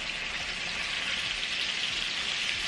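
Continuous crackling sizzle of food frying in hot oil, steady and fairly close, with no talking.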